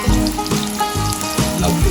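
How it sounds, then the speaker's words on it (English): Fish fillet searing in olive oil in a hot pan gives a steady close crackling sizzle, with brief knocks and scrapes of the pan along the way. "Very quickly I'm going to sear off the fish."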